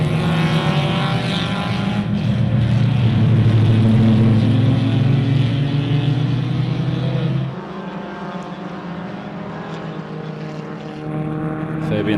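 Race cars, including a Fiat Uno, VW Sciroccos and a 1991 Ford Escort XR3, roar past on a circuit, loud engine drone building then dropping away as the pack moves on, with a commentator talking over it.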